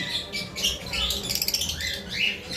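Pet cockatiels calling on a balcony, a string of bright chirps and whistled squawks, fairly close, with a quick run of rapid notes in the middle and steady background hiss.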